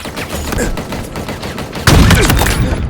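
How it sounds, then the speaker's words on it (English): Sniper rifle fired without scoping in Halo Infinite multiplayer: a rough run of game gunfire and explosive cracks that jumps to a much louder, dense burst partway through, close and harsh. "here's that same standard sniper rifle with the no scope."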